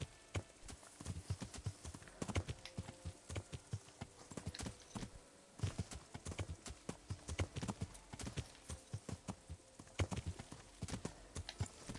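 Horse hooves clip-clop in a steady, fairly quiet walking rhythm in the video game Kingdom Come: Deliverance, continuing throughout with no talk over it.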